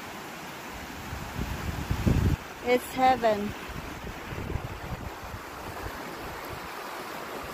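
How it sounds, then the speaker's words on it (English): River flowing near Lundbreck Falls in Crowsnest Pass, a steady broadband rush of water with wind buffeting the microphone, while a person speaks briefly over it. "The sound of the river."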